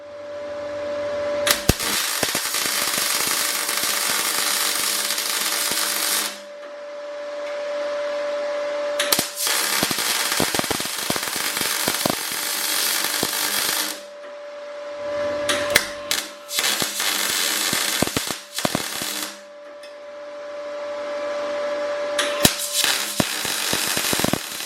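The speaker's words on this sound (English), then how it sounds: "So I'll just weld these up, and then we'll have a look at them afterwards" MIG welder laying plug welds and butt joints: three sustained crackling, hissing runs of several seconds each, separated by brief pauses with sharp clicks, loud and close, with no voices.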